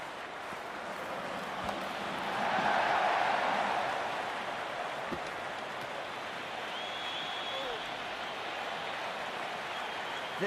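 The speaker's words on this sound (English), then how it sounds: "There's an almost tangible fervour throughout the crowd at the moment." In the Cricket 26 video game, a T20 cricket crowd in an India versus Pakistan match keeps up steady applause and cheering, which swells for a moment and then settles into a constant roar.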